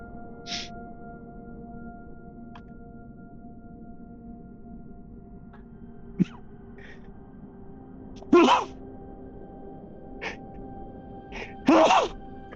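During a Savage Worlds cyberpunk tabletop roleplaying session, a person gives two sharp, loud sneezes a few seconds apart, standing out against a quiet, humming background.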